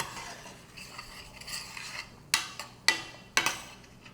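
A spoon scraping and clinking in a pot of barley risotto with leftover turkey, soft stirring at first, then three sharp metallic knocks against the rim near the end.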